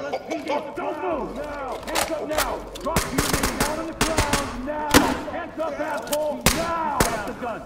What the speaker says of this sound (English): I've like dumped a whole mag into that guy.